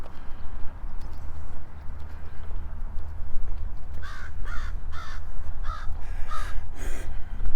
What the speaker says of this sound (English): More birds.